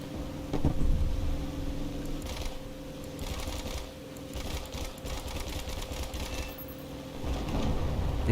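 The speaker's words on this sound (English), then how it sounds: "They just changed the sounds on these guns for this Havoc though." Aircraft guns on a Havoc in War Thunder fire in rapid, rattling bursts, a fast mechanical chatter over a steady engine drone that runs loud through the whole stretch.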